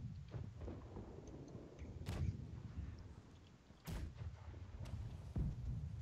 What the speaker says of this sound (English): Okay, we're shooting the cannons.